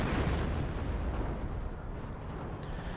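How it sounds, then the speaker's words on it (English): Booming artillery fire from a field gun in Company of Heroes, a dense low rumble that fills the whole stretch, loud at first and easing slightly toward the end. "Field gun ready."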